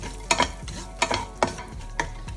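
Almonds and cashews stirred in hot ghee, a faint sizzle under four or five distinct spoon scrapes and taps, evenly spaced and close by.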